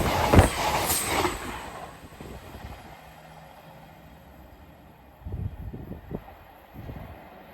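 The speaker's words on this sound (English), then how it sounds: "Passing through now is cross country service off to Penzance from Edinburgh Waverley." A CrossCountry passenger train on the Edinburgh to Penzance service passes a level crossing, with a loud rushing approach at first, then fading wheel rumble and intermittent clacks and squeals at a moderate distance.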